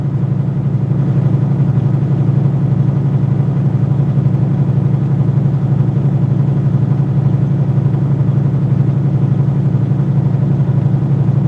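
A semi truck's diesel engine runs steadily at about 1400 RPM, a low, even drone with a faint rapid pulse that stays constant and close throughout, with no talking.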